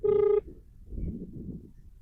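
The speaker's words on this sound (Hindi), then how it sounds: "साथियों हम सुभाष भाई का फोन लगाया हमने" A phone call is placed, and a single short ringing tone sounds, clear and close. A faint low murmur of background noise follows.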